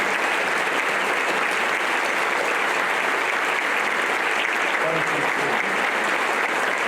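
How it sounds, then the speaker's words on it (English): A long round of applause fills the hall at an awards ceremony, as a large audience claps steadily and loudly throughout and a few voices rise briefly near the end. "And I think that needs, Steve, a special thank you and round of applause"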